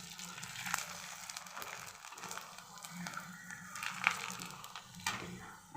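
A fasting papad, a puffing upvas papad, crackles faintly as it roasts or fries, with soft irregular pops and crinkling over a low steady hiss.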